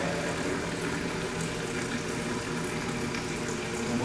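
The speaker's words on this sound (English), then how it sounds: "We're now going to bleed the high side hose or the front side of the check." Water bleeds out of the high-side hose of a double check valve test setup in a steady, hissing gush, a faint continuous flow with no voices.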